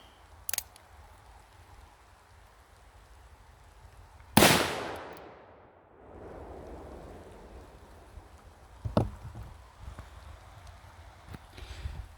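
A single loud, sharp gunshot from a 454 Casull Taurus Raging Hunter revolver with a 5-inch barrel, fired outdoors over a chronograph, followed by a long fading echo, with a few faint clicks and thumps around it.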